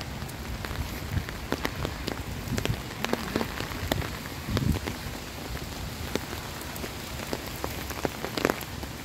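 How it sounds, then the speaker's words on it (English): Steady rain patters on surfaces in an empty city park in Zalzate, with scattered drops standing out from a continuous hiss. "Because it's raining."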